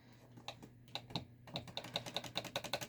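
Keys on a Mac keyboard are pressed in a quick, steady run of light clicks, close and fairly quiet, growing denser toward the end with no voices.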